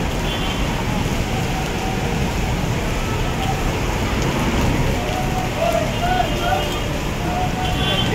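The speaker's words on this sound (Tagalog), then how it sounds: "Malakas pa din ang ulan." Heavy rain pours steadily at the Pasay Rotunda in Pasay, with a dense broadband hiss of downpour, faint passing traffic underneath and occasional distant tones, continuous and loud throughout.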